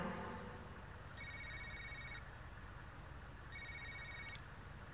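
A telephone rings in the video game Knee Deep, heard as two bright electronic bursts of ringing separated by a pause, laid over a steady rumble of traffic noise.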